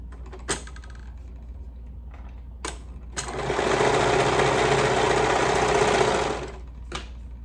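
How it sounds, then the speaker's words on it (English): A sewing machine stitches a short neckband edge with a 1/2 inch seam, running about three seconds as a close, steady mechanical whir between a few sharp clicks and knocks. "we're going to stitch on the short edge with a 1/2 inch seam allowance to create a loop"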